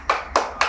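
Three sharp hand claps ring out in an even rhythm at a year-end gathering's talk on disability awareness, each crisp and close with a short decay between.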